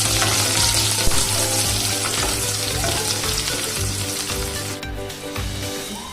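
Onion with a garlic and ginger paste fries loudly in a pan, with a continuous dense sizzle and scraping stirring strokes throughout, close and unbroken, as part of an Assamese banana stem dish.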